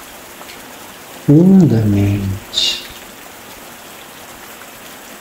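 Steady rain falling, a soft continuous broadband hiss that runs through the whole stretch while a calm voice speaks briefly near the middle.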